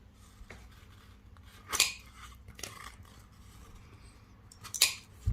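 Quiet close-up snips of tile nippers cutting 10 by 10 purple opaque mosaic squares in half, two sharp crisp cuts a few seconds apart with faint handling clicks between, no speech.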